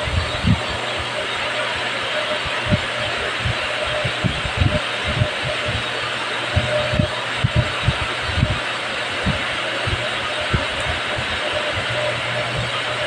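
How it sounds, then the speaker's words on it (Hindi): A New Holland tractor engine idles and runs in a farming video game, a steady low rumble with rhythmic thumping pulses, while someone talks over it. "ये देखिए एकदम प्रोफेशनल की तरीके से ट्रैक्टर चालू हो चुका है।"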